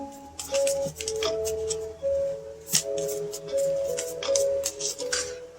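Quick riffling and snapping of cards being shuffled, repeated in bursts, with a steady electronic tone humming underneath.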